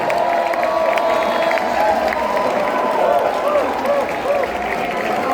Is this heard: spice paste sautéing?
no